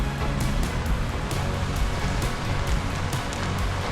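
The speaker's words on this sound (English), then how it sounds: "Another round of heavy rain." Heavy rain pours steadily and loudly over a muddy front yard pond build site, a dense continuous hiss with no voices.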